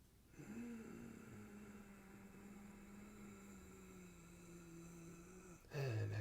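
A slow, deep inhale during a simple guided breathing exercise, drawn in steadily and close for about five seconds, with a short shuffle at the end.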